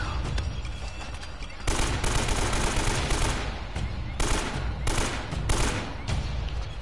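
Rapid gunfire bursts from the video game Uncharted: Drake's Fortune, loud, close and repeated in clustered volleys with short gaps between them.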